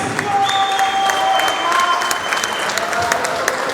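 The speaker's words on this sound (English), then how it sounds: "And round of applause for the fighters." Crowd at a combat sports championship main event applauding the fighters after the bout, steady dense clapping with scattered cheers and whistles filling the whole stretch, loud and close.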